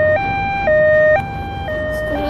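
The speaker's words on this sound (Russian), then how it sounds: "Скорая помощь приехала очень быстро." An ambulance siren wails in a loud, close two-tone pattern, switching pitch back and forth at an even pace.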